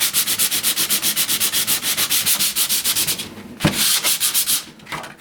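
Wood veneer is sanded by hand with 100 grit sandpaper, quick regular back-and-forth rasping strokes close up, then a few slower, heavier scrapes.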